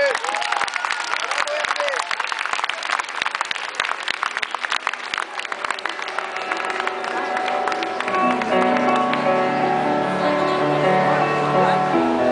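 An audience at an Armenian youth association evening in Paris applauds a performer, with loud dense clapping that gradually gives way to music swelling in underneath toward the end.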